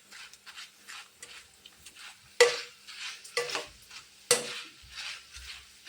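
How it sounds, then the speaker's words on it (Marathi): Snacks fry in a small amount of oil, heard as short bursts of sizzling and crackle that swell and fade as the pan is stirred, with quiet gaps and occasional scraping in between. "त्याच तेलामध्ये मी सगळं काही तळून घेणार आहे"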